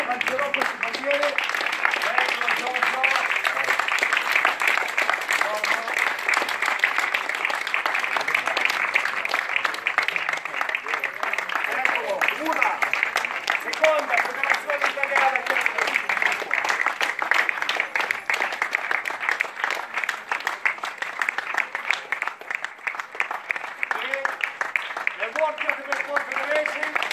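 Sustained applause from an audience at the opening of an International Kettlebell Lifting Academy gym during a flag raising, a steady dense patter of many hands that runs for the whole stretch, with murmuring voices mixed in underneath.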